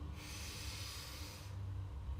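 One long, deep nasal inhale during a guided breathing exercise in a rejuvenation flow: a soft, close, airy hiss lasting over a second, then quiet breathing.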